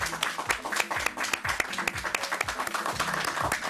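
An audience applauds a French agency's team at a live show, the claps brisk and irregular, moderately close, with faint voices mixed in beneath.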